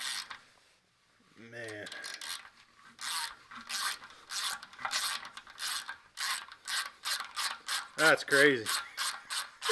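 A tap chases dirty bolt threads on a Farmall Cub tractor with rapid, close rasping and ratcheting strokes in a steady rhythm, and someone speaks briefly over it.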